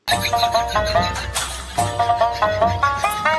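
A phone ringtone plays a bright, repeating melodic pattern of chiming notes, loud and close, running continuously with no voices.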